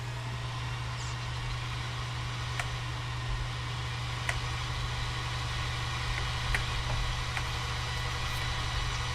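Tractor engine in Farming Simulator 19 drones steadily as a low, constant hum with a few faint clicks over it, running alone without talk throughout.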